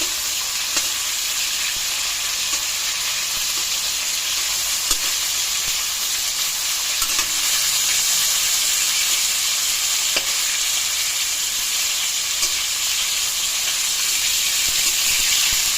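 Steady, loud sizzle of chicken pieces frying in hot oil, a continuous crackling hiss with a few faint clinks, no voices.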